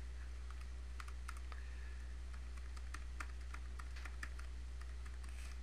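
Fast, irregular keystrokes on a computer keyboard as a password and email address are typed, close and clear over a steady low hum with no talk.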